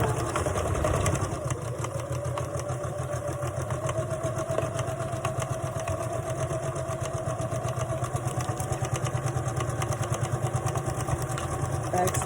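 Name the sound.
sewing machine stitching skirt side seam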